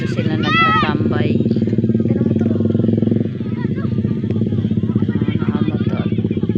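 A motorcycle engine drones loudly and steadily nearby, with a brief rising whine near the start and voices talking over it.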